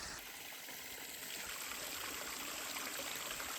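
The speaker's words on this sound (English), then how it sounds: "You can just come to sit and hang out and just listen to that fountain." Water runs steadily from a free public drinking-water fountain, a soft continuous trickle heard faintly and alone throughout.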